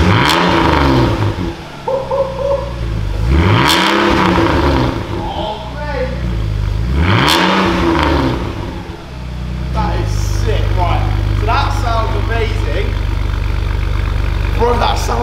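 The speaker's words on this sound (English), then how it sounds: "That has opened the valve, and now I can start it up for the first time." A BMW E46 with a valved aftermarket exhaust, valve open, cranks and fires into loud, close engine noise with several rising rev swells before settling into a rumbling idle, with a voice speaking over it.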